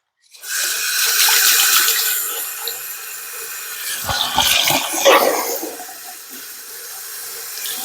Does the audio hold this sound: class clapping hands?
no